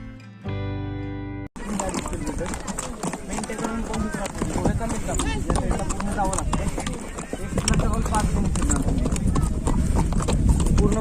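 Horse hooves clip-clop in a steady trotting rhythm on Table Land plateau, Panchgani, under continuous voices and background chatter, after a short musical tone at the start.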